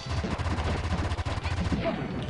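Rapid, dense gunfire and explosions from the arcade-style shooter Wild Guns, continuous and loud for the whole stretch, with game music mixed in.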